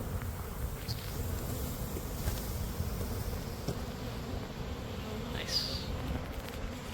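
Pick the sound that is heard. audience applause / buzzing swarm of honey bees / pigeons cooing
buzzing swarm of honey bees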